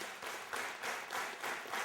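Concert audience clapping hands in a steady rhythm at a live folk-rock performance, roughly two beats per second, loud and close for the whole stretch.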